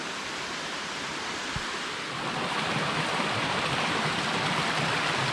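Rushing water spills over rocks in a mountain stream on a cold, icy trail, a steady broadband wash that swells slightly louder partway through, close and continuous with no voices.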